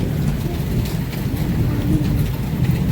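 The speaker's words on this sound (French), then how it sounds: "faut pas que ça fasse de la grêle, faut que ça reste un peu en pluie comme ça" Rain falling outside, heard through a slightly opened door, as a steady dense patter with scattered sharper drops, continuous and fairly loud throughout, no voices present.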